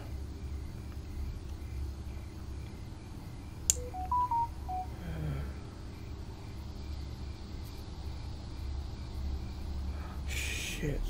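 An in-game phone in the multiplayer survival game SCUM, a short run of electronic keypad beeps stepping through different tones over a low engine-like rumble, followed later by a brief hiss.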